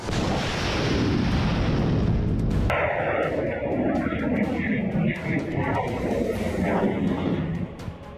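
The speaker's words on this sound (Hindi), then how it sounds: "पुतिन की मिसाइलों से युद्ध भूमि दहल रही है।" Missile and artillery fire in war news footage of the Russia-Ukraine battlefield: a heavy, continuous rumble of blasts and booms, with talking over it.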